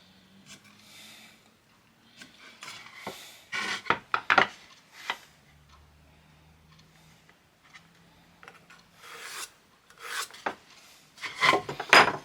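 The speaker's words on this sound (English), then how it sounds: "I'm just going to mark that pencil line lightly all the way around" Light pencil strokes rasp and scratch across a wooden toolbox part, marking a line all the way around in short bursts with pauses between, close and fairly quiet, louder scratching clusters near the middle and end.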